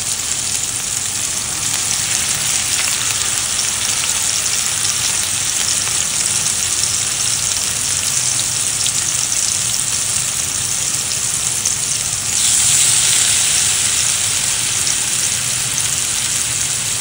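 Semolina-coated fish pieces in green masala fry in a pan with a loud, dense, continuous sizzle like heavy rain, rising slightly in intensity toward the end, close and alone without talk.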